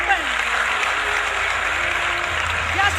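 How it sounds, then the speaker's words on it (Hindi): Loud, sustained applause from a large crowd at a political rally in Dehradun, steady clapping filling the whole stretch with crowd noise mixed in. "एक बार जोरदार तालियां।"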